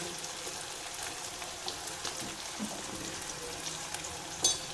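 Tomatoes sauté in a pan for a varagu rice sambar, giving a soft, steady sizzle and crackle close by with a small clink near the end.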